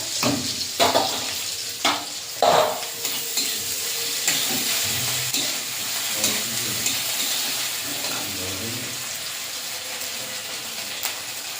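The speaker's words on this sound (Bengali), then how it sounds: "পেঁয়াজটা হাফ ভাজা ভাজা করে নিয়েছি, এবারে দিয়ে দেবো আদা বাটা" Half-fried onion with ginger paste cooking in a pan, a low sizzle broken by sharp scraping stirs and clanks of a spatula, close and fairly quiet.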